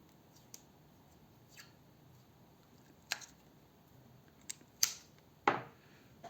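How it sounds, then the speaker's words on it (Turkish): Electrical tape is pulled and pressed down over a soldered cable on copper wires while building a decorative fireplace: a few short, sharp rips and snips spaced apart, quiet in a still room. "Şimdi bunu bantlıyorum."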